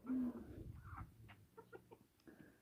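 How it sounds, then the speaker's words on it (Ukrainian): Soft, faint clucking from chickens eating in a village yard on a cool autumn morning, with scattered short calls and low rustling activity in a quiet setting. "Гарненько їдять наші кури"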